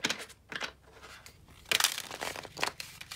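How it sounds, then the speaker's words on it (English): Tarot cards being shuffled, a close, quiet papery crinkle and rustle in several uneven bursts with no talking. "that was not a good shuffle"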